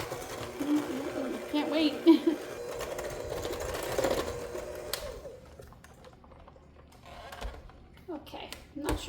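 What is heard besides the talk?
electric mixer mixing pumpkin chocolate chip cookie dough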